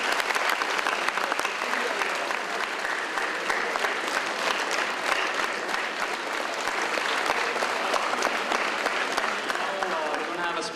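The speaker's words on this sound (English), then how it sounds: "Huge round of applause, everybody." Sustained audience applause at a Bangalore student mass prayer event, dense steady clapping from a large crowd lasting throughout without pause.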